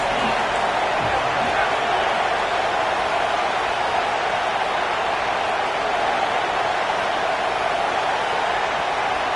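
Steady, dense roar of a large college football stadium crowd at an Ohio State game, a constant broad wash of cheering and chatter with no break throughout.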